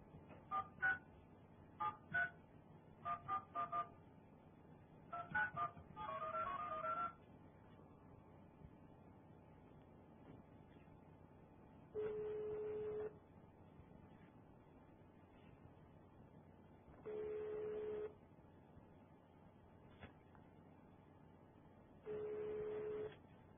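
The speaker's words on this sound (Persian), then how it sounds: "بعد تلفناش زنگ میزنم جواب نمیده" A telephone keypad plays a quick series of DTMF tones in several bursts, and later three evenly spaced long ringback tones sound on an unanswered call. Faint background noise fills the gaps, and no one speaks.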